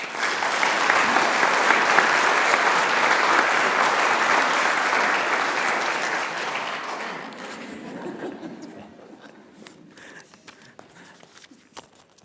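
An audience applauds to welcome speaker Kosta Georgiadis at a launch event, a dense, steady clapping from a crowd that holds for several seconds and then tapers off into scattered claps and quiet room noise.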